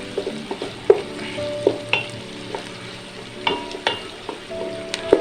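Carrots and onions stir-fry in a pan for Chinese beef tikka, a steady sizzle broken by irregular clanks and scrapes of a utensil against the metal, close and clear with no talking.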